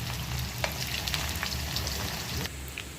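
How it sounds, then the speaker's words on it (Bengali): Onions sizzling and crackling in hot oil as they fry crisp for biryani, a steady dense frying hiss with occasional pops, close by and with no talking. "তেলটা গরম হয়ে গেছে এবার পেঁয়াজগুলো দিয়ে দেবো বেরেস্তা করার জন্য"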